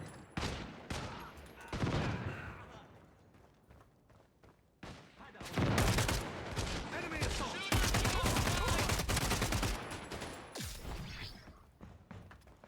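Heavy gunfire from a big gun in the shooter game Caliber, dense bursts of rapid shots with thuds and mechanical clatter, quieter sporadic shots early then long loud sustained volleys.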